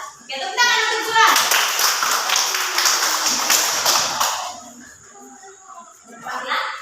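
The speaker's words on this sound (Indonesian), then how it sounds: "Oke, tepuk tangan untuk Juan." Primary school pupils clap for a classmate in a steady, loud round of applause lasting a few seconds before tapering off, with a voice and classroom chatter around it.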